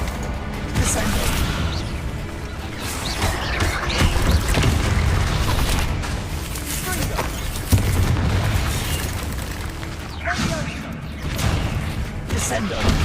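Descendo spell impacts in Hogwarts Legacy inside a goblin mine, with dense, continuous booming crashes and rumbling debris over several seconds, loud and close, under frequent speech.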